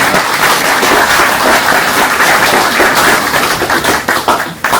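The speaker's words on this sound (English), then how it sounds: "we could just give them a big round of applause" A crowd claps steadily and loudly, sustained applause with no talking.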